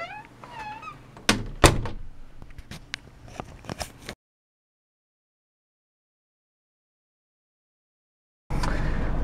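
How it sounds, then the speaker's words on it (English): A car door thunks shut amid light handling clatter, followed by several seconds of near silence and then a steady broadband rumble. "here we go, shutting the door"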